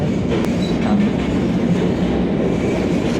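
A Vande Bharat train runs steadily on rails between Secunderabad and Tirupati, a loud continuous rumble of wheels and carriage throughout, with no talk.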